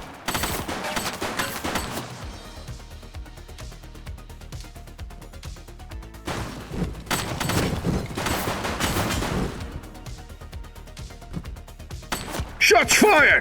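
Gunfire in The Precinct, a police video game, with loud bursts of shots in uneven clusters, a brief spoken voice line near the end, and game background sound between volleys.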